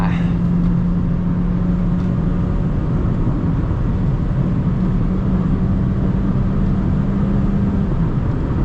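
A Mazda2 1.3 SP sedan from 2023 revs in sport mode during an overtake, its engine a steady, loud drone that holds through the whole stretch with a faint whine on top and constant road and cabin noise.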